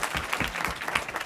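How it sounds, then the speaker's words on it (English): An audience at the 2014 JCCC Hispanic Conference applauds Chris with a dense, steady round of clapping that holds at an even level throughout the short stretch. "You can give Chris a round of applause."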